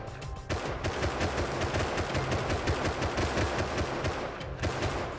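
Rapid automatic gunfire during a Rust cave raid, a dense continuous stream of shots that starts abruptly after a brief lull and stays loud for several seconds.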